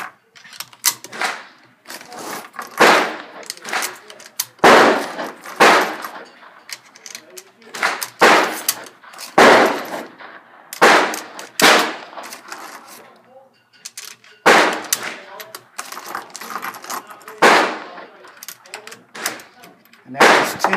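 Ten rounds of 122 grain full metal jacket fired from a Yugoslavian SKS M59/66 rifle, loud sharp cracks spaced a second or two apart with brief mechanical clatter between them.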